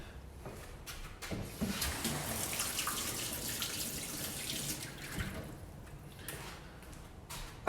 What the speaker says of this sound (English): I'm just going to wash my spoon